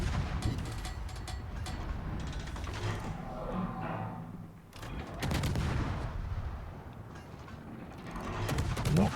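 Warship guns fire shells at battleships in World of Warships. Several sharp booming salvos go off at uneven intervals under a low, steady engine-like rumble, moderately loud throughout.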